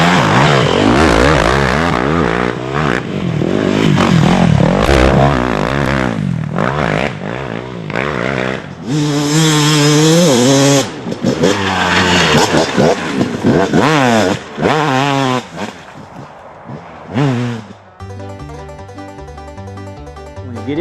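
A dirt bike engine revs hard and loud up close, the throttle rising and chopping in bursts as the rider crosses a log, then dropping away near the end.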